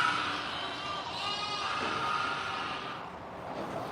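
Goats bleat from a pen on a farm, several overlapping calls rising out of a steady, noisy background, fairly close and loud throughout.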